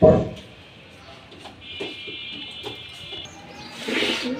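Pigeons cooing in a loft, soft and intermittent, with a bird call sounding briefly and someone talking nearby over the quiet background.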